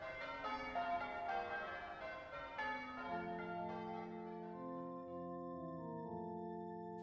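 Church bells ring on Christmas Day, several tolls overlapping at first, then fading into long, soft, resonant tones that hang and decay.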